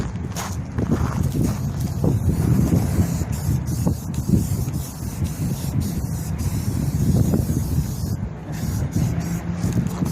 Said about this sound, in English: Hard to paint in the wind, gotta tell you